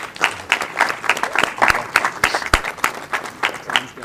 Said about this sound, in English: Can we give them a round of applause, please?